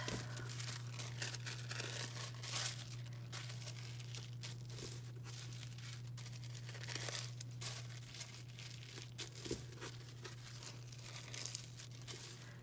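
Fabric for shibori tie dye is fan-folded back and forth by hand, giving soft, continuous crinkling and rustling with faint crunches, quiet and close, over a steady low hum.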